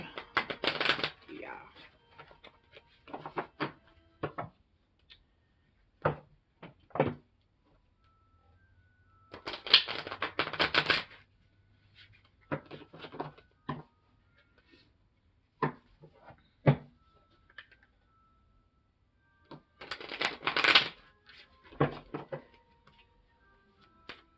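A deck of tarot cards is shuffled in several quick riffling bursts, crisp and close, separated by pauses and quiet handling noises.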